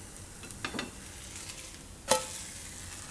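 Corn pudla cooks in a pan over low gas, giving a faint, steady sizzle with a couple of short scraping or stirring sounds on top.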